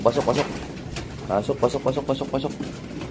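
Racing pigeons coo close by in soft, throaty bursts as they enter the loft after a truck training toss, with a voice talking over them.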